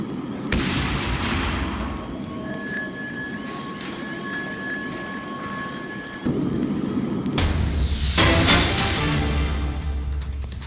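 A deep, continuous rumbling roar fills the air, swelling louder partway through with a heavier, broadband blast-like surge that rolls on before fading slightly.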